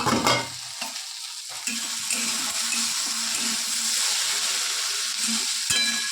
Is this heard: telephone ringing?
no